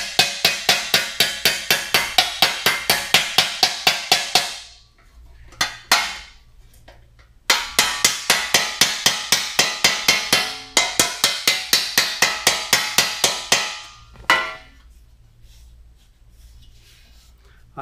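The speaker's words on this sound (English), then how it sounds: "I hammer from the inside." A hammer strikes the sheet metal of an early Ford cab corner from the inside in two fast, rhythmic bursts of ringing metallic blows, each burst ending with a few scattered taps and brief pauses.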